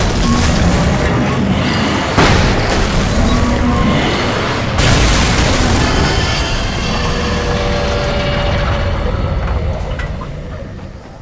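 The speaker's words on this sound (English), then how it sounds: "Flashbang." A flashbang grenade goes off in the video game Alan Wake: a loud, sustained booming roar with a sharp burst partway through, then a long ringing wash that slowly fades.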